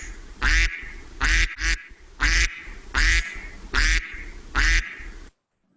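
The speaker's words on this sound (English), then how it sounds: "A duck quacks." A duck quacks seven times in an even, evenly spaced series of loud, nasal calls, then falls silent at the end.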